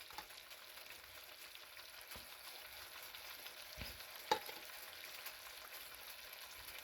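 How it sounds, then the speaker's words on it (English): Chopped onions frying in a pan with turmeric, garam masala and coriander powder for Indian-style pan-seared chicken: a faint, steady sizzle with a few soft clinks and scrapes from stirring, and no talking. "We're gonna add our chopped onions. We're gonna add our turmeric powder, garam masala, and coriander powder."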